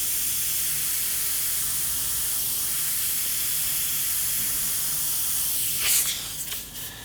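An airbrush hisses steadily as it sprays paint over a skull stencil, a continuous close airy spray with a few short bursts and clatters near the end.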